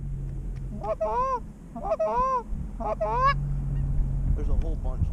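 Snow geese honk in flight in repeated bursts of overlapping calls, fairly close and loud, over a low steady rumble of background noise.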